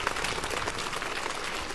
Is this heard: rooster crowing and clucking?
no